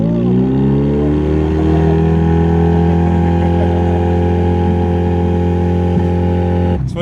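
A Mongol Rally car's engine revs hard and stays loud and close throughout, a steady high-revving drone with strong harmonics before it cuts off abruptly at the end; no one talks over it.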